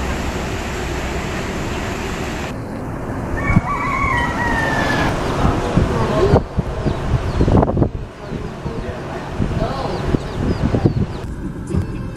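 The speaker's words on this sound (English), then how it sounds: "Here, they're greeted by local chickens." Free-roaming local chickens on Kauai crow loudly and cluck nearby, outdoors with wind buffeting the microphone and people talking at times.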